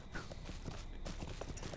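Horse hooves walk in the fantasy game The Lord of the Rings Online, giving a quick run of soft clip-clop steps over a low background hum.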